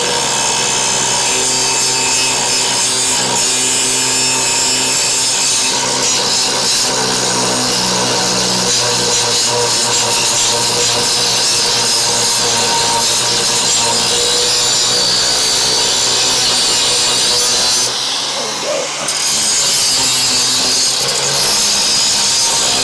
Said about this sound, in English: Let's switch over to the flap disc.